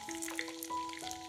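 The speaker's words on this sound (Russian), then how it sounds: "Обжариваем рулеты с одной стороны," Steady sizzling of breaded, cheese-filled hake rolls frying in a pan, with a faint high hum running through and light crackles, moderately quiet and without voices.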